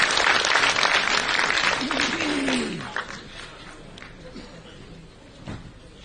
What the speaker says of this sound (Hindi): इनके इस मानवीय कार्यों के लिए एक बार तालियों के साथ हम अभिवादन करना चाहेंगे